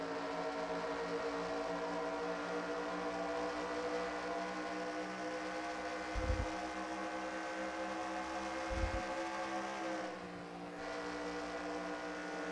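Stock race cars roaring around Atlanta Motor Speedway, a dense pack of engines droning steadily at high pitch, with brief low thumps and a dip in the pack's sound near the end.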